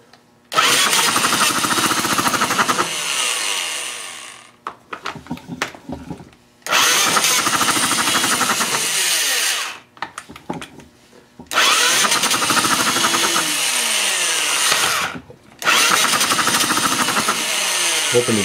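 A Mini Hog 69 minibike engine runs roughly in several loud bursts, surging and sputtering, dying away between runs and catching again, with no talk over it.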